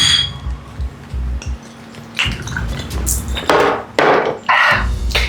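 Drinking glasses clink together in a toast, a few bright chinks close by among thumps and handling noise, with people talking around them.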